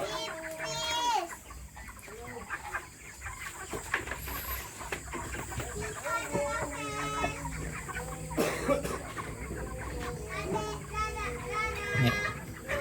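Thirty-three-day-old broiler chickens cluck and squawk repeatedly as they are loaded into baskets during a harvest, with people talking over the birds throughout.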